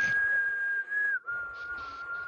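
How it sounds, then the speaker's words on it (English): Someone whistles a tune from West Side Story: one sustained melodic line near and fairly loud, with a brief pause before the melody continues on a slightly lower note. "What are you whistling?"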